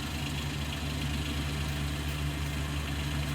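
A modified tractor engine idles steadily in a farming game, a loud, even, low rumble with a constant droning hum and no voices.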